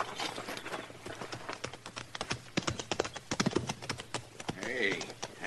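Horses' hooves clip-clopping in a rapid, irregular patter on a hard surface, close and fairly loud, with a brief whinny-like sound near the end in an old Western radio drama scene.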